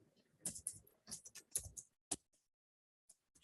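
Computer keyboard typing, close and quiet, comes as a quick cluster of clicky keystrokes, then a pause and a few scattered taps in an otherwise silent room.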